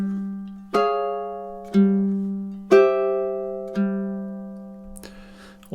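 Low G ukulele plays the opening three measures of a TV theme, four plucked chords struck on beats one and three, each ringing out and decaying in a quiet room.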